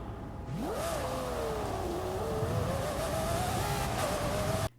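Camaro engine in a racing video game revs up and holds a steady, loud drone with a rising whine and shifting pitch, running continuously without talk before cutting off abruptly at the end.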